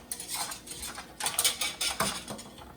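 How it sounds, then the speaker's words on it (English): A whisk knocking and scraping around a pot of keto hot apple cider, in quick irregular bursts of metallic clatter, close by. "I just like to use my whisk because the whisk helps lumps and it keeps everything nice and moving around"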